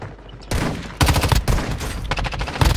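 Enemy gunfire in the Warzone video game on Rebirth Island: dense, loud bursts of rapid shots that stack into sustained fusillades, with no talk.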